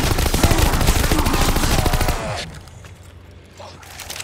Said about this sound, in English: SMG. Loud and clumsy.